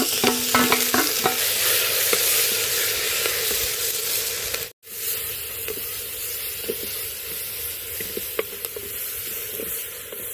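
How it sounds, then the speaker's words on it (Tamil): Onion and tomato sautéing in a clay pot for dry fish kulambu, a steady close frying sizzle with scraping stirs, broken by a brief silent gap midway before the sizzling resumes. "வெங்காயம் தக்காளி வதங்கிடுச்சுங்க."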